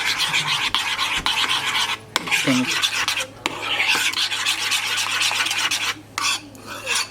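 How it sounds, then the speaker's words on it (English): Close spoon scraping and stirring of a seasoned Dominican chimi sauce with chunks of pickle in a bowl, a steady rasping rub with brief gaps and a few clinks. "As you see, we'll mix this together."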